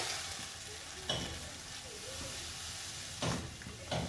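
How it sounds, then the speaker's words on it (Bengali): Dhoka lentil mixture stirred in a pan over low heat: a steady soft sizzle runs throughout, broken by a few scraping strokes of the spoon against the pan. "এটা কিন্তু কন্টিনিউ নাড়তে লাগবে"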